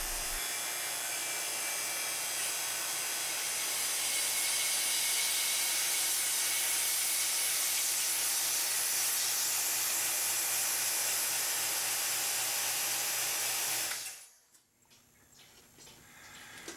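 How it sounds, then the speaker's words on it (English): Air hisses steadily and loudly back into a vacuum chamber holding a foam-filled tray, a broad continuous rush lasting about fourteen seconds before cutting off abruptly into near silence. "when I let the pressure back into the vacuum chamber, they're going to collapse down so small"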